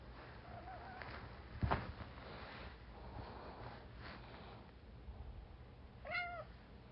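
A cat meows faintly in the background of an indoor room, one soft call early on and a clearer, rising meow near the end, with a brief knock in between.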